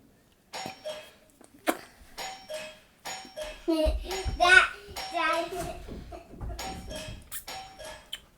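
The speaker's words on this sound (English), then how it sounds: "I foolishly taught him how to ring the doorbell." A household doorbell, rung by a small child, chimes several times in quick bursts, with the child and an adult talking and making excited sounds between and over the rings.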